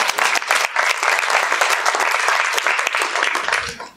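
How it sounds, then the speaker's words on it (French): A conference audience on shamanism and medicine applauds Dr Jamil Mikenen with dense, loud, continuous clapping that drops away at the very end. "Merci de l'applaudir"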